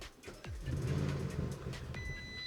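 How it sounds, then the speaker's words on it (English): An Audi C8 RS6 engine start attempt with an immobiliser fitted: a click, then the starter cranks and a deep engine note rises and holds, with a short high electronic chime near the end, close and without talk. "and I'll put my foot on the brake. I'm going to start it."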